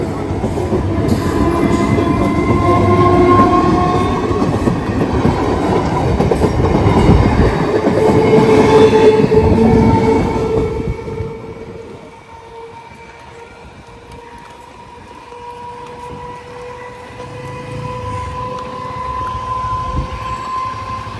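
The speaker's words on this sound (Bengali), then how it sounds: "এখন কিন্তু মানে ট্রেনে আর কি উঠবো।" A train pulls in at a suburban station, loud and close, with rumbling wheels and clattering carriages for about ten seconds, then a quieter stretch with a faint squeal and hum as it settles.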